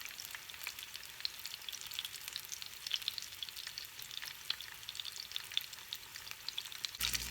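A thick fillet of salmon fries in a pan, producing a continuous, bright crackling sizzle with dense popping that holds steady throughout, with no voices.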